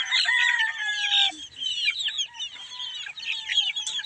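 Backyard chickens raised as pets cluck and squawk close by in a dense, busy chorus, with a drawn-out crow-like call near the start and steady chattering throughout.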